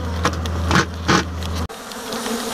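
Killer bees buzz loudly and close in a dense, agitated swarm drone that swells and dips, then cuts abruptly to a quieter buzzing.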